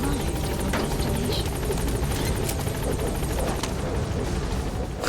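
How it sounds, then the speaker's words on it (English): A helicopter in Metal Gear Solid 5 thrums steadily with a loud, continuous rotor chop and engine roar that fills the space, close and constant, with a few faint incidental clicks on top. "Alright, here's the helicopter."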